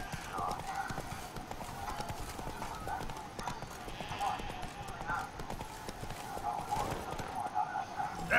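Roach the horse trots in Witcher 3: Blood and Wine, with a rhythmic clip-clop of hooves, a brief whinny and some game background sound underneath.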